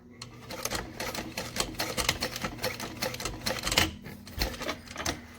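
A sewing machine runs stitches at a length of 5, folding over about an inch of fabric, giving a rapid rhythmic clatter in bursts with a few brief pauses.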